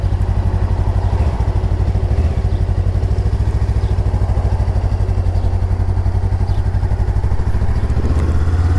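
A 2018 Honda Rebel motorcycle engine idles steadily after a stall and restart, a loud, even low thump with a mechanical clatter running throughout, with no talking over it.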